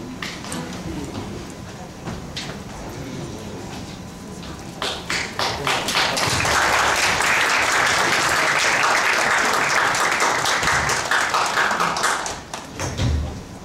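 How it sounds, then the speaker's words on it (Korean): Conference audience applauding after guests are introduced, clapping swelling from scattered taps into sustained, loud applause for several seconds before tapering off, with murmured voices underneath at the start. "모두 자리하시면 박수 보내시기 바랍니다."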